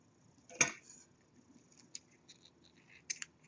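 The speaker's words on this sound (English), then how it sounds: "you can go ahead and cut the white yarn" Scissors snip through crochet yarn with one crisp close cut, followed by a few faint small snips and clicks of the blades in a quiet room.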